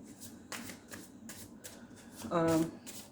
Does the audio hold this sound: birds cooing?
no